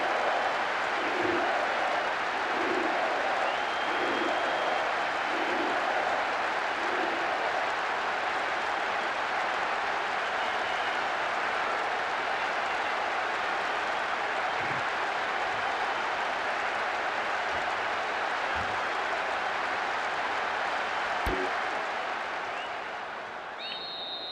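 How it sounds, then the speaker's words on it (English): Stadium crowd noise from the PS2 football game PES 2012, a dense steady roar with faint chants and claps, sustained for the whole stretch and fading slightly at the end. "The crowd starting to get impatient now."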